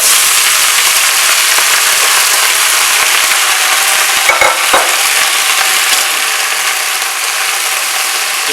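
Chopped bottle gourd greens dropped into hot oil give a loud, dense, crackling sizzle that holds steady throughout, with a few sharper pops partway through.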